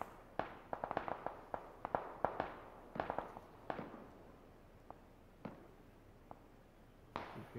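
Distant gunshots in PUBG, a scattered series of sharp cracks arriving in quick clusters and then sparser single reports, faint against a quiet background.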